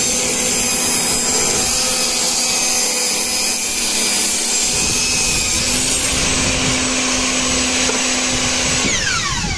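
A table saw rips wood into thin strips of a few millimetres. The whine of the blade holds steady and cuts grind under it, near and loud, with no voices.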